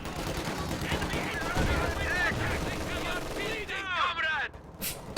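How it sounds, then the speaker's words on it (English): Machine gun fire from an MG42 firing incendiary rounds during a real-time strategy battle, rapid bursts layered over the game's battle noise while a commentator talks throughout. "Incendiary rounds from the MG42 just shredding"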